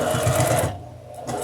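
A sewing machine stitches a Halloween table runner in a short, close burst of rapid whirring, pauses briefly, then starts again for a few stitches.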